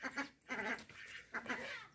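A Majan breed goat bleating close by, three nasal, wavering calls separated by short pauses, clear and fairly loud.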